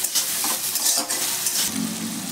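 Tomato and spices sizzle and fry in a pan for a potato curry, a steady hiss with stirring scrapes and light clinks of a utensil, up close and continuous with no talking.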